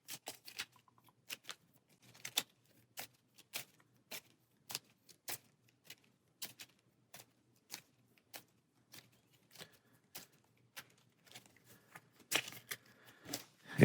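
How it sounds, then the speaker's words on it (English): A deck of cards for the Aeon's End board game is shuffled by hand in a quiet room, giving a long run of crisp, evenly spaced riffle clicks that grow busier and louder near the end. "So shuffling our turn order deck."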